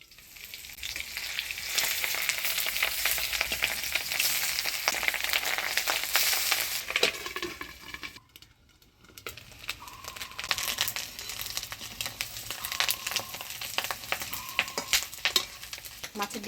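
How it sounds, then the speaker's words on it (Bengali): Katla fish roe frying in a pan, a steady loud sizzle with crackling and spattering, dipping briefly to near quiet midway, likely as a lid goes on, then resuming. "মাছের ঝোলে কয় পিস ডিম দিব, সেই ডিমগুলো ভেজে নিচ্ছি।"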